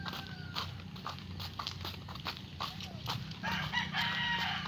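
Chickens at a Filipino home: a rooster crows and hens cluck amid a busy, continuous backdrop of overlapping calls and clucks, moderately loud and close.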